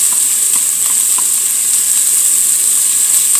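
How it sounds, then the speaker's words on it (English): Zucchini sautéing in a pan gives a loud, continuous close sizzle with a steady hiss throughout and faint occasional stirring ticks underneath. "So let's go ahead and saute them all the way."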